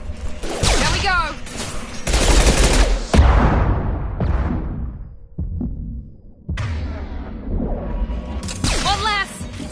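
Heavy gunfire and explosive bursts from a PS4 shooter game, loud and dense with rapid volleys, with voices calling out over the battle.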